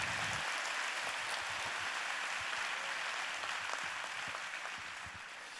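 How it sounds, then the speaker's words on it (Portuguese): A church congregation applauds during a sermon, a dense, steady wash of many hands clapping at a fairly low level that fades slightly toward the end, with no voices standing out. "Que tal dar mais um aplauso a Jesus,"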